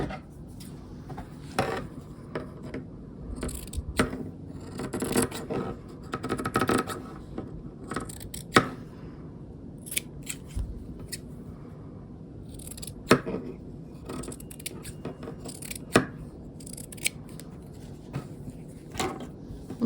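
Scissors cut fabric for bookmarks in a long run of close, crisp snips and soft rustling handling, with irregular bursts spread across the stretch and no one talking.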